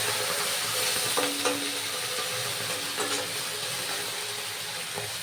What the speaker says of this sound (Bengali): মশলাটাকে কষার জন্য আর টমেটো ভালোভাবে সেদ্ধ হওয়ার জন্য আমি দিয়ে দেবো একটু সামান্য পরিমাণ জল।